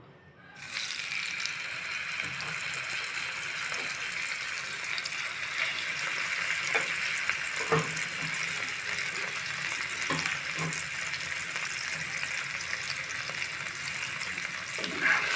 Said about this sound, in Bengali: পরিমাণ মতো সর্ষের তেল দিয়ে আমি এখন এর মধ্যে মাছগুলো দিয়ে দিব